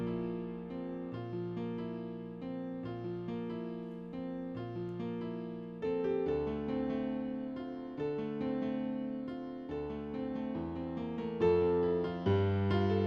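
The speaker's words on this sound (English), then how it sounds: "we're gonna add a little counter melody on top" A counter melody made in FL Studio plays over fifth chords, its bright synth notes stepping in a steady rhythm above sustained low chords, growing fuller about halfway through with no voices.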